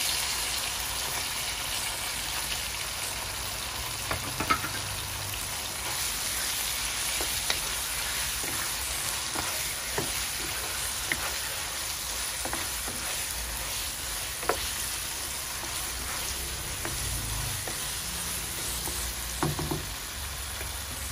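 Chicken frying in a pan with salt for kinamatisan, a steady close sizzle throughout with occasional louder pops and spatters, no talking.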